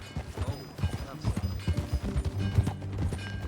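Horse hooves clip-clopping in the Red Dead Redemption 2 western open world, a steady trotting rhythm carrying through the whole stretch under game music and other activity.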